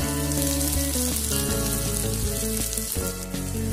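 Chama rice upma frying in a pan, a steady dense sizzle running continuously under a loud layer of background music.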